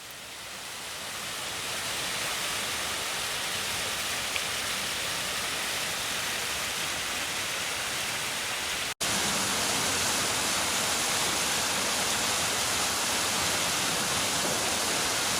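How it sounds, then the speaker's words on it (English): A big waterfall roars as a steady, loud broadband rush that fills the whole stretch, constant and close, with a brief dropout partway through. "That's a big waterfall, Ma."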